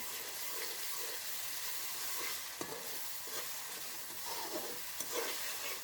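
Garlic-ginger paste mixed with green chilies sizzles steadily in hot oil in a pan, with a spoon scraping and stirring through it in soft bursts; quiet, close, no talking.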